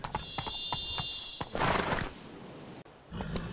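A horse in The Witcher 3 trots with rapid clip-clop hoofbeats, then lets out a loud whinny midway before a brief pause and renewed hoof sounds.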